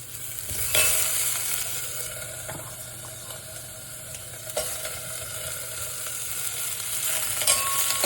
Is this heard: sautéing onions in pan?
yes